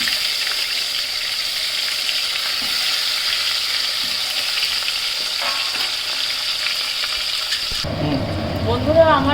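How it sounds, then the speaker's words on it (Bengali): Cut potato pieces fry in hot oil in a pan for a village-style mutton curry, giving a loud, even sizzle that runs steadily, then the frying cuts off and a brief clatter follows at the end. "আলুটা ভেজে নেব।"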